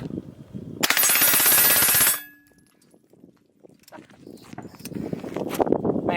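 A Springfield rifle fitted with a performance trigger fires one rapid, loud burst of about 20 rounds that lasts a little over a second, then stops. Afterward, people talk quietly at a distance.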